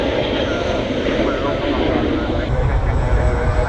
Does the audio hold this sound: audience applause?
no